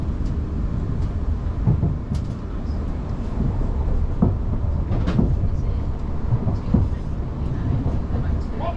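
A South Western Railway passenger train runs along with a steady, loud rumble from inside the carriage, with faint clicks and rattles scattered through it.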